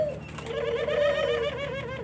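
A caged brooding turtle dove (burung puter) coos close by, one smooth, wavering coo drawn out over about two seconds with no talk.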